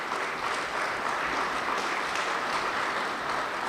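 Steady, even audience applause at a city's State of the City address, a continuous wash of clapping with no voices standing out.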